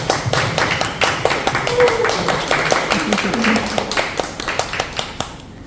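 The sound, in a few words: audience applause for director and actor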